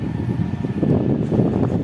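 A strong, rushing whoosh of air from a 12-inch Tanzu cordless electric fan running at full power, close to the microphone and steady throughout.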